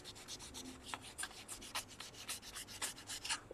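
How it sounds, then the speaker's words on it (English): Sandpaper rubbed over a carved stone seal in relief, giving a series of short, soft, scratchy strokes in a quick irregular rhythm, close and fairly quiet with no talk. "So you can sand a particular area, because it's like a relief, you don't have to sand the whole thing"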